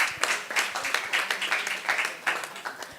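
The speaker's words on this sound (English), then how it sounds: "Please let's give him a round of applause." Steady applause from a conference audience at a Nigerian women in oil and gas event, many hands clapping in a dense, continuous patter that holds at an even, fairly loud level throughout.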